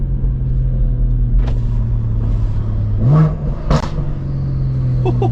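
A stage 2 tuned BMW M140i in Sport Plus rumbles along at a low, steady drone, then revs briefly. A few sharp pops and crackles stand out over the engine.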